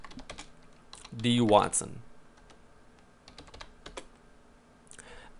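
Typing a command on a computer keyboard in Stata, scattered close key clicks in short runs around a brief spoken phrase, fairly quiet.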